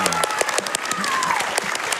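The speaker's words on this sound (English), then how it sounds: "So can we give a big round of applause for credits remaining staff?" A crowd claps steadily in dense, continuous applause at a speedrunning charity marathon, with a faint voice calling out briefly partway through.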